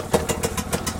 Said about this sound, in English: Pretty easy to pull start. Usually 1 or 2 pulls gets this thing started.